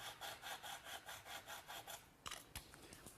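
A hand saw trims the excess off a wooden step dowel in a shop clock build. About ten quick, even back-and-forth strokes rasp close by, followed by a few sharp clicks and knocks as the cut finishes.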